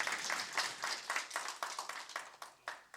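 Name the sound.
audience applause after a conference talk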